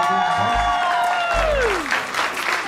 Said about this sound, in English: give them a big round of applause before we carry on